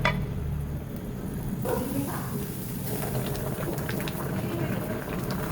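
A covered pot of pechay and stew boiling, a continuous bubbling simmer at close range that holds steady throughout.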